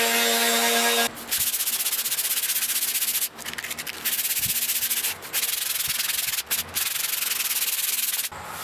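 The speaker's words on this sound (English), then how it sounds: "we just hand sand it till it's perfect" Wood hand-sanded with a sanding block during woodturning and carving work, a loud steady rasping rub in long strokes with a few short pauses in between.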